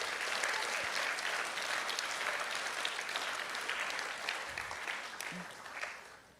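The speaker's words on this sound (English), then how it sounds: "please give them a round of applause as well." An audience claps steadily at a high school senior award celebration, a dense and even wash of applause that holds for about six seconds and then tapers off.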